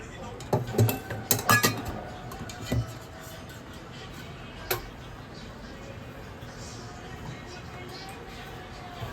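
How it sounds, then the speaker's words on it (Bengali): Chop batter with turmeric, salt and oil mixed in a bowl with a spoon: a quick burst of clinking and tapping strokes near the start, then a few isolated knocks fading into quiet room tone. "এবার আমি ভালো করে ওটা মিক্স করে নিচ্ছি।"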